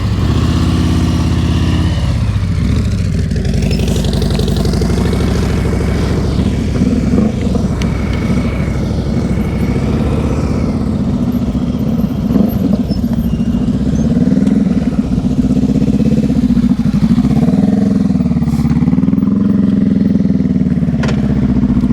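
A motorcycle engine runs steadily at low speed during an advanced slow-speed riding practice session, with a loud, close, continuous hum and small throttle changes throughout.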